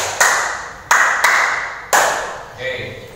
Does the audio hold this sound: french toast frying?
no